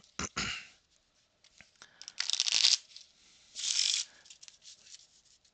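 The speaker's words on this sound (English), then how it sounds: "Let's give it the inaugural shuffle here on stream." A brand-new, fairly stiff deck of playing cards being shuffled, with several bursts of riffling and crisp card flutter separated by brief pauses and light handling noises, close and clear with no talking.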